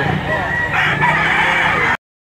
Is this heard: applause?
no